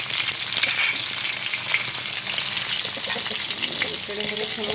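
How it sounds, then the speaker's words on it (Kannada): Chicken fries in a pan with a loud, continuous sizzle and crackle. The sound is close and steady, with occasional stirring. "ಚಿಕನ್ ಫ್ರೈ ಆಗುತ್ತೆ"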